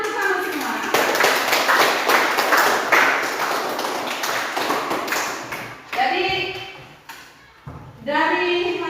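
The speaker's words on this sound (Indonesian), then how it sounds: "Tepuk tangan untuk kamu semua" A classroom of students claps together in a burst lasting several seconds, dense and fairly close, fading into quieter taps, followed by a teacher's voice speaking alone.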